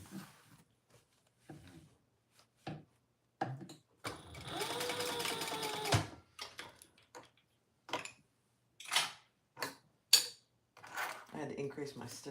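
A home sewing machine stitches fabric in a steady two-second run, surrounded by scattered clicks, taps and handling noises, with occasional quiet talk.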